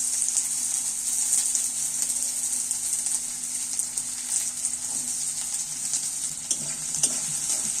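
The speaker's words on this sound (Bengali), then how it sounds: "এইবার আমি কেটে রাখা, ছোট ছোট করে কেটে রাখা পেঁয়াজগুলো তুলে দিচ্ছি তেলের মধ্যে" Chopped onions hit hot oil already tempered with nigella seeds, giving a steady, close hissing sizzle with occasional stirring scrapes throughout and no voices.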